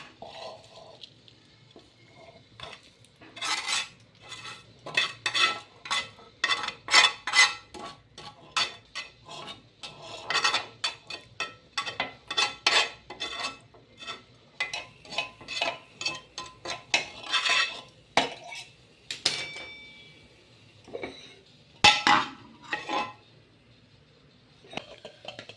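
Roasted ingredients being stirred and mixed into finely ground dry coconut, with a string of close, sharp clinks and scrapes of a spoon against a vessel in uneven bursts amid quieter stretches.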